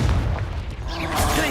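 A Confringo blasting spell in the Hogwarts Legacy video game: a loud, close, booming fiery blast with rumbling low end fills the short moment, overlapping a voice.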